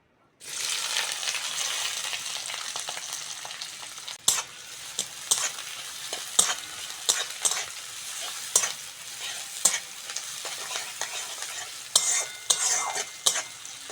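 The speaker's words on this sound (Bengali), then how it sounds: "কড়ার মধ্যে সরিষার তেল দিয়ে দেবো এইবার দেব পেঁয়াজ কুচি" Chopped onions fry in mustard oil in a wok for crab curry, a steady loud sizzle with repeated sharp scrapes and clacks of stirring throughout, close up and with no talk.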